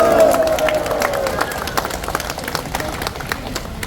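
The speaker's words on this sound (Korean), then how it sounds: "박수 보내주세요" Residents at an outdoor rally supporting a highway interchange plan applaud together, a dense steady clatter of many hands, loud and sustained, with a voice briefly audible at the start.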